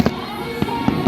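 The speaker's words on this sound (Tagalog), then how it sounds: "Doon, may fireworks na din doon, oh." New Year fireworks burst in a short sequence of sharp cracks, three or four loud pops spaced unevenly over a steady background din.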